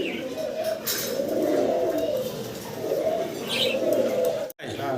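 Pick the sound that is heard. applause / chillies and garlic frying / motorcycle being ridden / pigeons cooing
pigeons cooing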